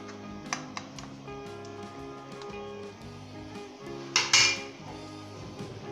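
Carrot murabba is stirred in a pot, a spoon clinking and scraping against the metal in scattered light taps, with a sharper clatter near the end over a quiet background.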